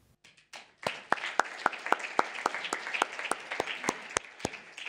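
A crowd at a conference keynote applauds, the clapping quickly falling into a steady, rhythmic unison beat, fairly loud and with no talking.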